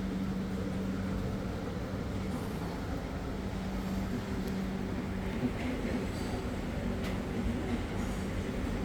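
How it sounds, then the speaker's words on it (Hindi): Avantika Express train departing Mumbai Central, heard from inside as a steady low rumble of rolling wheels and carriage noise, continuous and moderately loud throughout. "तो 7 मिनट लेट हम चले हैं मुंबई सेंट्रल से।"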